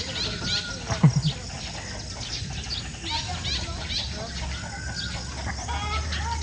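Chickens clucking in the background outdoors, with people talking and children's voices nearby.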